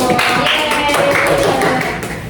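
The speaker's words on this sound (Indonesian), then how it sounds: "tepuk tangan dulu" A group claps together in an Indonesian session, giving a dense, steady burst of applause that carries evenly at close range for a couple of seconds before easing slightly at the end.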